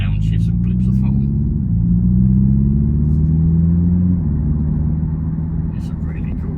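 The Hyundai Ioniq 5 N electric car plays a synthesized engine drone with stepped pitch changes that mimic gearshifts and throttle blips. The sound is a loud, continuous low rumble heard from inside the cabin, with faint voices now and then.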